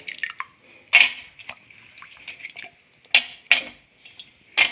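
Raw plantain pieces dropped into a pot of vegetables for Kerala-style varutharacha sambar, giving a few sharp clatters and knocks against the pot with soft splashing between them, close and moderately loud, with no talking.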